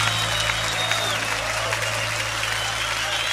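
A church congregation claps loudly and continuously during a worship service, with a steady low musical drone beneath the applause.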